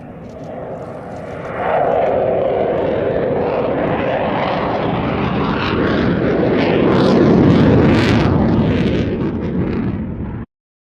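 Osprey tiltrotor engines at RAF Mildenhall produce a broad, loud roar that swells and grows more intense over several seconds, then cuts off abruptly, with no voices heard.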